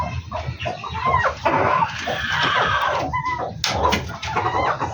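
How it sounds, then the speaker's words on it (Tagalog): Chickens cluck and squawk nearby in a busy, overlapping chorus, with scattered sharper calls and some rustling in the background. "Mga laga nating mga manok."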